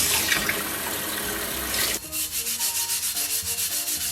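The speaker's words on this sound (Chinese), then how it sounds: "我先把这个刀给它洗一下。" A new kitchen knife is washed under a running tap: about two seconds of steady splashing water, then a quick series of rhythmic rubbing strokes, close up and with no talking.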